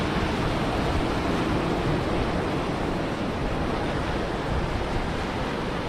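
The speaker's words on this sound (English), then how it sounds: "Pretty rough surf today" Rough ocean surf rolls onto a beach at night as a steady broadband roar, with waves washing continuously and no clear breaks.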